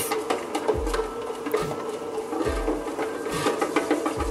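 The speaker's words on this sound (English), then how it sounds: "You can hear the noise in the background that the machine makes during the kneading process." A steady mechanical whirring and rattling with soft periodic thumps, a Breville bread machine kneading raisin loaf dough continuously at close range with no voices.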